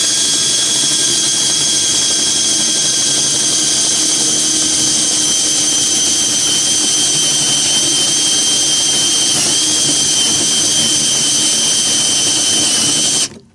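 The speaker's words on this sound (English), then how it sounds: "we're going to put our drill on low speed. All right, and then we're going to go ahead and open that hole up." Power drill run on low speed, opening up a pilot hole with a 1/2 inch bit, a loud continuous whining motor drone with a steady pitch that holds for about thirteen seconds and then stops abruptly.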